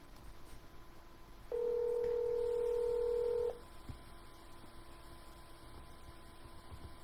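Telephone dialing tones placing a cold call to a real estate lead: one steady two-tone keypad note held for about two seconds over a faint background hum, with no talking.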